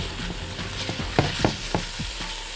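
Onions frying in oil in a pan as they are stirred, giving a steady close sizzle with a few distinct scraping strokes of the spoon near the middle.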